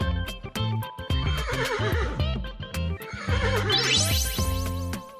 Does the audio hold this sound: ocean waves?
no